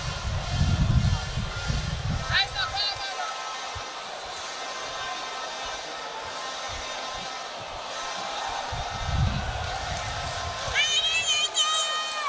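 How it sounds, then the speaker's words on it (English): Crowd at a boxing fight roars and shouts excitedly, loud bursts at the start and near the end with a busier murmur in between, while an announcer talks over it. "The crowd is really excited."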